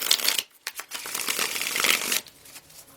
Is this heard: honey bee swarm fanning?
no